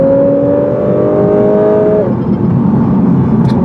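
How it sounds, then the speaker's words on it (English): The exhaust of a 2018 Lexus RC-350F drones steadily under load while driving, its pitch sliding slightly before dropping as the throttle eases, close and fairly loud. "I love the sound of this exhaust."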